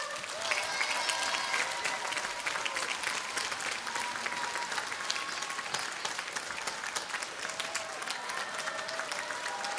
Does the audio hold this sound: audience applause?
yes